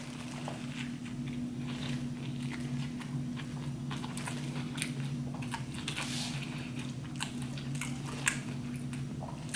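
Someone bites into and chews a vegan burger up close, soft wet crunching and squishy mouth sounds repeating irregularly over a steady low electrical hum, with no talk.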